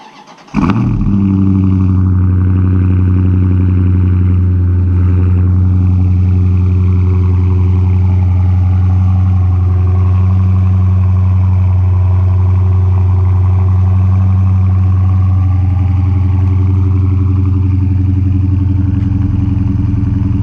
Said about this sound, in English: The exhaust sounds absolutely mean, which I will demonstrate right now.